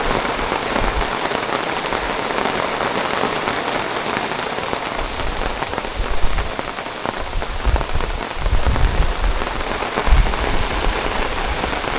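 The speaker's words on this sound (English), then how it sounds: "Heavy rain." Heavy rain pours steadily in the jungle of Lam Ta Khlong National Park, a dense, constant hiss of drops on surfaces, loud and close, with occasional heavier splats.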